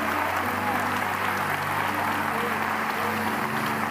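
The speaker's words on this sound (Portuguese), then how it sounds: "Dar um aplauso ao Rei dos Reis." A church congregation applauds during a sermon, steady dense clapping held at an even level throughout, with a faint low hum underneath.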